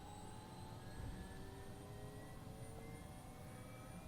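Simulated Bell 407 helicopter on startup in Microsoft Flight Simulator, rotor turning with a steady, even turbine whine and low drone, faint and unchanging throughout with no voices.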